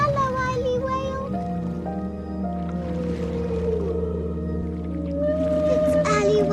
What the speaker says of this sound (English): Eily Whale is singing.